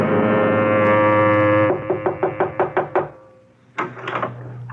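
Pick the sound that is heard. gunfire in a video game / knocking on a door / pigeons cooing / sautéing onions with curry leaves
knocking on a door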